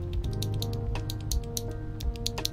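Typing on a Monsgeek M3 TKL keyboard, a solid aluminum board with stock linear switches, with fast, light, close clacks in an irregular rhythm.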